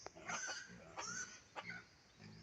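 A pig grunts and squeals in three short, close bursts with brief pauses between them.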